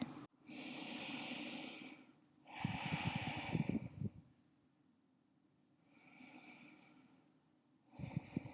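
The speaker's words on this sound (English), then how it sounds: "We'll just breathe here for 3." Slow, deep breaths during a pregnancy yoga session, two long inhales and exhales heard close and alone, followed by a softer, quieter breath cycle and the start of another.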